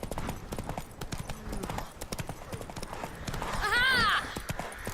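Horse hooves clip-clop steadily at a walk, with a horse whinnying loudly near the end amid faint background voices.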